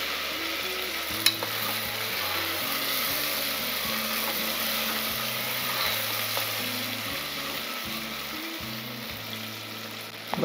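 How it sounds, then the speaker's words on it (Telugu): Ginger, three spoonfuls, sizzles and fries in oil in a pan for a mutton leg curry while a spoon stirs through it, a steady close crackle with a low humming background and no talking. "అల్లం కూడా వేగిందండి"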